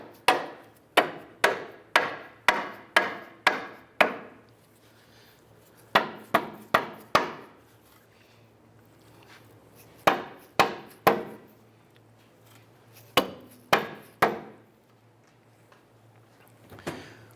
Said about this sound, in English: And use our dead blow hammer here. Pop the control arm back and in.